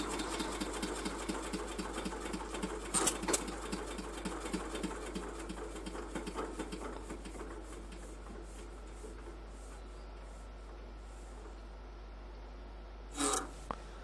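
An old tractor engine in the Farming Simulator 2015 game rumbles and rasps steadily, then sputters down and fades out as it shuts off, leaving near-quiet broken by a couple of short knocks.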